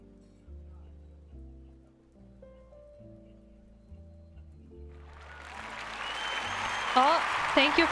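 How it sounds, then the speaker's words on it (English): Applause rises in the second half over soft background music and builds into a fairly loud, hissing wash of clapping, with a few brief chirpy tones near the end. "Oh, thank you for the applause."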